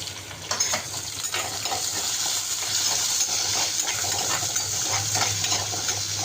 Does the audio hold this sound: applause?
no